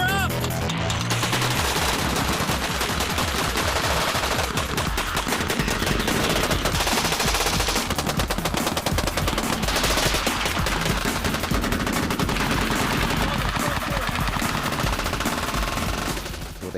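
Hand-cranked Gatling gun firing in one continuous, loud, rapid stream of shots lasting the whole stretch, without pause.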